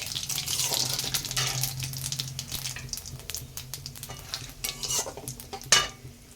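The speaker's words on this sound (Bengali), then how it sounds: "এই তেলে ফোড়ন দিয়ে দিলাম জিরা একটা তেজপাতা আর একটা দারচিনি আর দুটি লব এলাচ" Whole cumin, a bay leaf, cinnamon and cardamom crackle and sizzle in hot oil, with bright spattering bursts and occasional stirring scrapes, fairly close, with no voices, for a Bengali catfish curry.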